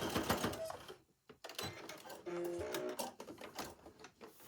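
A sewing machine back stitches a Christmas table runner, running in short rapid bursts of needle clatter with a brief pause partway through, close and moderately loud.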